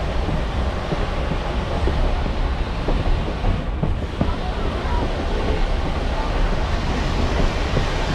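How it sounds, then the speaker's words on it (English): A loud, steady roar of escaping steam from a Black Hills Central 1880 Train steam locomotive blowdown near Hill City, South Dakota, constant and forceful throughout, with a rumbling low end beneath the rush. "Here's your blowdown, folks."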